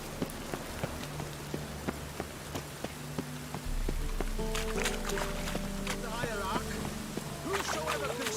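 Rain patters steadily over ground and surfaces in The Witcher 3 video game, a constant wet hiss with scattered drips, while characters talk over it.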